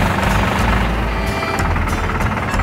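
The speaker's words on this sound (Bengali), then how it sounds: "এখানে তো ঝাড় দেওয়ার মেশিন চলছে, ধুলো উড়ছে রে।" A road sweeping machine runs at a highway toll plaza, giving a steady, loud mechanical engine drone with low rumbling throughout, no talking heard.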